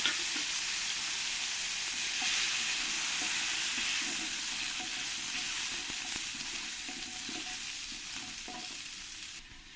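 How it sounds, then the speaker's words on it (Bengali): Steady, loud sizzling of potatoes frying in hot oil in a pan, a continuous crackle with faint stirring clinks, no voices. "এবার আমি আলুগুলো একটু ভালো করে ভেজে নেব"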